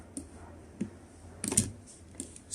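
A computer mouse and keyboard are clicked while deleting items in design software, a handful of scattered soft clicks and key taps, close and fairly quiet.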